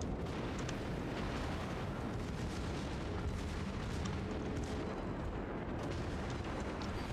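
A torpedo striking a ship in a naval battle video game: a steady, rumbling explosive roar of broadband noise that lasts throughout, fairly quiet overall, with faint crackling bursts riding on top.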